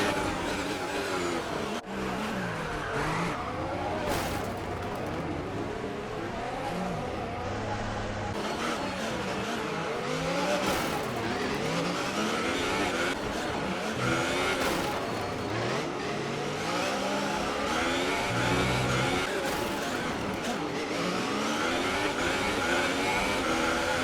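Formula 1 race cars in the F1 2018 video game at the French Grand Prix, their engines whining and revving continuously as cars pass, rising and falling in pitch over a steady bed of engine noise.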